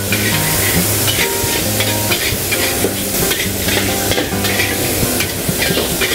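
A vegetarian dish being stir-fried with salt, vegetarian seasoning and vegetarian soy sauce gives a continuous loud sizzle, with steady scraping and stirring strokes in the pan throughout.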